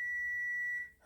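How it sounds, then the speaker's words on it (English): Kitchen timer signalling rice is done, a single long, clear electronic beep tone lasting nearly a second, close and fairly loud, followed by a faint rustle. "That's a timer telling me my rice is done."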